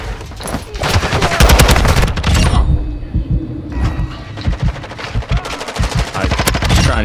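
Call of Duty gunfire, rapid automatic bursts and heavy thumping shots, loud and close, with brief pauses and scattered impacts.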